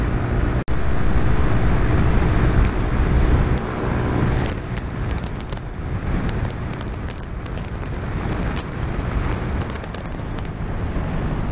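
Car driven hard toward top speed with traction control switched off, a loud, steady engine and road roar running throughout with a brief dropout near the start.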